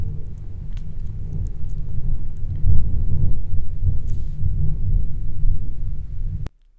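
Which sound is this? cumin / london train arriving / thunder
thunder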